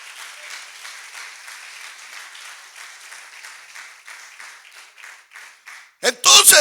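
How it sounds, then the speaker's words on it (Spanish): A church congregation applauds during a sermon, a moderate wash of many clapping hands that thins out, followed by a sudden loud burst at the very end. "Denle un aplauso"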